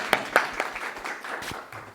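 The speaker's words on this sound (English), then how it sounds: "So big round of applause for Prafulla" A small audience claps for a prize winner in a lecture setting, brief scattered applause that quickly thins out and fades over about two seconds.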